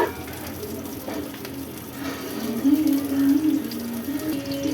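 Shallots, chana dal lentils and dried red chillies fry in oil for a Tamil banana-peel thogayal, giving a steady close sizzle that swells slightly midway, with a spoken voice over it.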